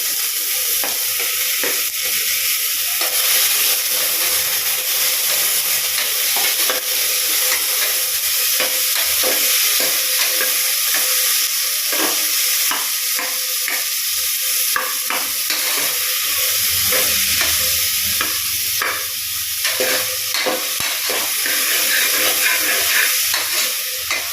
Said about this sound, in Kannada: ಈರುಳ್ಳಿನ ಹಾಕ್ಕೊಂಡು ಆದ ನಂತರ ಇದಕ್ಕೆ ಟೊಮ್ಯಾಟೊನೂ ಸಹ ಹಾಕ್ಕೊಳ್ಳೋಣ